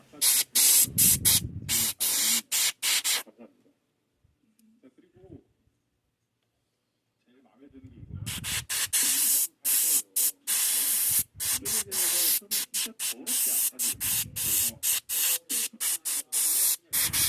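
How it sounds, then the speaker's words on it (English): An airbrush sprays green paint over the veins and skin of an alien figure in loud, close hissing bursts, separated by short gaps and one long pause near the start. "Here you can see I'm airbrushing over the veins"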